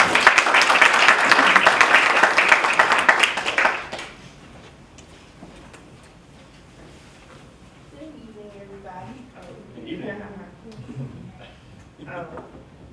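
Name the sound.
audience applause at an end-of-year event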